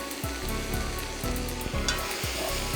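Spoon scraping and stirring through a pot of Greek pork stew seasoned with salt, black pepper and oregano, rhythmic clanks over a steady sizzle.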